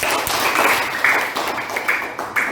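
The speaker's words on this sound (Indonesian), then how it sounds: "Tepuk tangan 3 kali" Children in a classroom clap their hands in a quick, uneven patter, several close claps spread across a few seconds rather than three clean beats, with no talking.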